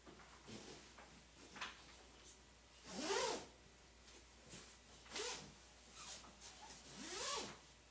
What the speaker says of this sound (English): now I'm going to be zipping